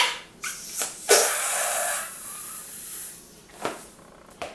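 Air hisses and sputters out of a balloon in a long breathy rush with a few squeaky bursts, close by.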